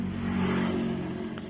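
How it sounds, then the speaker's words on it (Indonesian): A Honda Supra 100 motorcycle engine runs close by with a steady, strong mid-pitched drone that swells as the throttle is opened, heard alone without talk. "Ini mesin sudah menyala dan kita gas."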